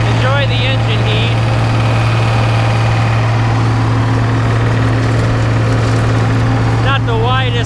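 A combine harvester engine drones loud and constant while harvesting beans, with a strong low hum running through the whole stretch and a few brief chirping tones near the start and end.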